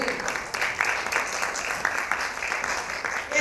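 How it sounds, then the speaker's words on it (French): Film club audience applauds at a screening discussion, moderate clapping from a modest crowd in a room, somewhat uneven with a few louder claps poking through. "Applaudissez, oui."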